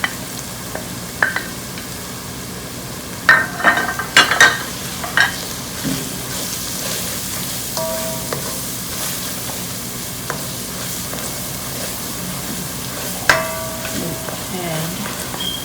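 Dry masala spices frying in a pan for mutton curry, a soft steady sizzle broken by scraping stirs and a few sharp clinks of a spoon against the pan.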